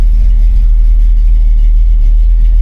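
Engine of a 1964 Chevrolet C20 truck idles with a steady, heavy low rumble, loud and close, with no pauses or voices.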